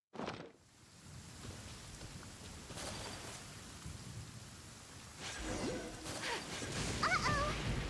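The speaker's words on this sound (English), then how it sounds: "Uh-oh! Lightning storm!" Thunderstorm in the video game Genshin Impact: a sudden crack of thunder opens over steady rainfall, which grows heavier and louder with further rumbling toward the end.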